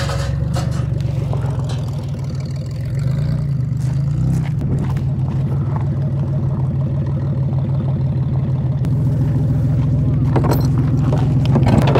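A service vehicle's engine runs steadily while backing up during fence brace and wire testing, a continuous close, even mid-pitched drone with faint scrapes and rattles on top.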